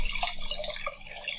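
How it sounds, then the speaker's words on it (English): Water trickles and drips steadily from an Odyssea CFS 130 hang-on aquarium filter into a planted tank. The burbling splashes are close and continuous. "So you can just have the water trickling in, or you can turn the flow right up"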